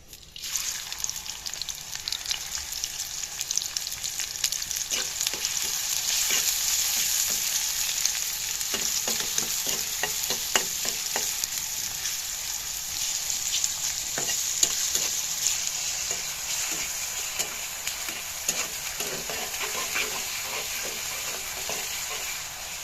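Chopped onion fries in hot oil with a steady, bright sizzle, stirred now and then with soft scraping clicks, loud and close throughout.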